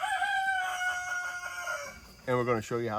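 A rooster crows loudly nearby at an outdoor fire-making spot, with a drawn-out call followed by a second, harsher crow and some clucking under background noise.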